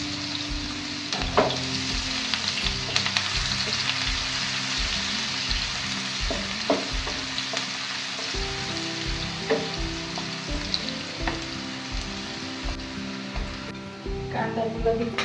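Onions sizzling and frying steadily in hot oil in a home kitchen pan for a Gujarati vegetable dish, a constant crackling hiss with occasional stirring clinks, close and continuous.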